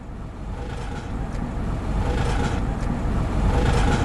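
A car with a broken gearbox running in limp mode rumbles and vibrates on the road, a heavy low drone that swells gradually as it accelerates, heard from inside the cabin with no talking.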